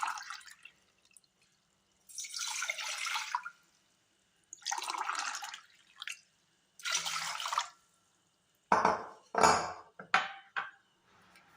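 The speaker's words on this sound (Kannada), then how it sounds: "2 ಗ್ಲಾಸ್ ನೀರು ಹಾಕ್ತಾ ಇದ್ದೀನಿ." Water pours from glasses into a vessel in a home kitchen while preparing sugarcane juice: several separate splashing pours with short gaps, ending in quicker clinks and drips.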